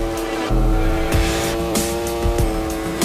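Motorbike engines rev hard in the Ride 4 racing video game, with a loud, buzzing whine that climbs and drops sharply through quick gear shifts, close and continuous with brief tire-squeal-like bursts.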